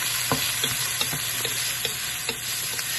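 Garlic scapes fry in a hot pan among aromatics with a steady, dense sizzle, broken by the light scrape and clatter of stirring, close by, with no talk.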